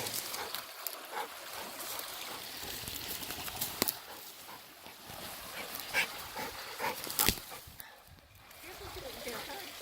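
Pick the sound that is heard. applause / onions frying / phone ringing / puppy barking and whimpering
puppy barking and whimpering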